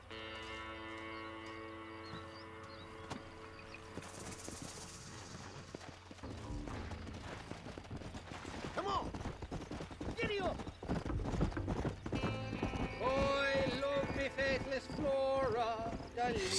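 Horse in the Red Dead Redemption video game, hoofbeats clopping along at a walk among game music and ambient effects, with people talking over it and the sound busier in the second half.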